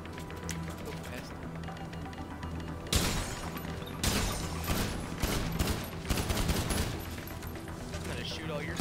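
Bursts of gunfire in GTA Online, several loud volleys from about three seconds onward with sharp clustered shots, over a busy game background with voices talking.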